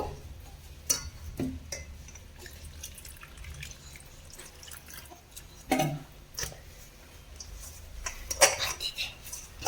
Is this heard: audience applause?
no